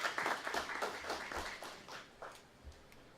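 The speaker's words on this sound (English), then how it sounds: "give yourselves a round of applause" An audience at an event in Tobago, Trinidad and Tobago applauds, with moderate clapping that starts strong and gradually thins out into scattered claps, somewhat distant.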